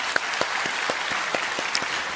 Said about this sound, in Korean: 우리 감사로 한번 박수로 격려해 주시면